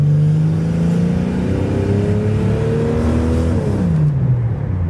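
Inline-6 engine in an almost 30-year-old vehicle accelerating, a loud close droning hum rising in pitch, dipping at a gear change, then climbing again.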